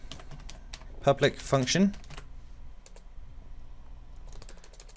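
Rapid clicking of computer keyboard keys as code is typed, a steady run of light taps with someone speaking over part of it.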